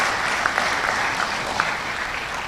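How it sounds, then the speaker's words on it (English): A public-service audience at a financial year audit launch breaks into sustained applause, a dense, even wash of clapping from many hands that holds steady throughout. "this demands a round of applause from all of us"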